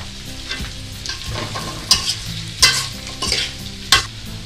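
Oil goes into a dry pan of restaurant-style Chinese fried rice, followed by brisk stirring with repeated sharp spatula scrapes and loud bursts of sizzling close by, with no talking.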